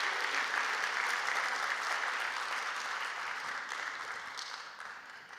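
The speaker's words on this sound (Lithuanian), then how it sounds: "Dar kartą Jūsų aplodismentai" Audience applause at a teachers' award ceremony, a sustained, even wash of clapping from a large hall that slowly fades toward the end.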